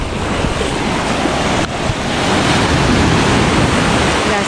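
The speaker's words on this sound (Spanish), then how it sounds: "Las olas." Loud, continuous roar of strong ocean waves crashing close by at Palomino, La Guajira, Colombia, with wind buffeting the microphone and no voices.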